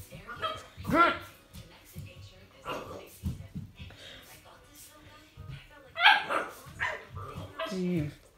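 A dog barks and yips in short bursts while people talk over it, the barks close and fairly loud.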